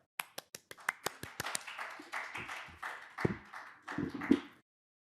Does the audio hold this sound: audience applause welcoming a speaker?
yes